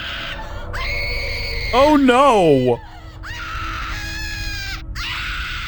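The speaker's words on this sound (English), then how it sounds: "There's a loud, continuous screaming coming from behind the door." Loud, continuous screaming comes from behind a door in RuneScape 3, as wailing, wavering cries that rise and fall. The cries swell loudest partway through, and a voice briefly exclaims over them.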